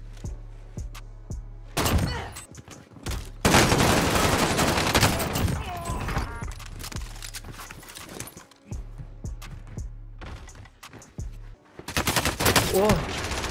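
Gunfire in Call of Duty: Warzone on Verdansk, loud repeated bursts of shots and crackling impacts in several waves, with quieter gaps and some game noise between.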